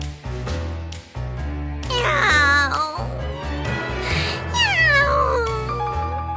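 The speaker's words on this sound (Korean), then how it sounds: "당나귀와 사냥개는 브레멘으로 향해 걸어가던 중 철양맞게 울고 있는 고양이를 보았어요." A cat meows and yowls in drawn-out, wavering cries over a low musical backing, several plaintive calls in a row.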